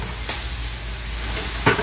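Ground cumin paste sizzles in a cooking pot for a khichuri, a steady, fairly loud hiss with brief stirring scrapes near the start and end.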